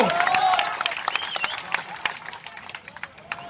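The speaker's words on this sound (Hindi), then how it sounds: "ठोको ठोको ताली ठोको।" A political rally crowd in India claps in a brief burst that thins into scattered individual claps, with a chanting voice at the start.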